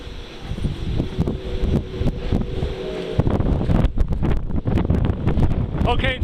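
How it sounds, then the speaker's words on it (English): Strong wind gusts across an open rocky ledge outcrop at the summit of Mt Blue in Maine, steady broadband roar with louder buffeting bursts on the microphone throughout. "Okay, just a little bit windy."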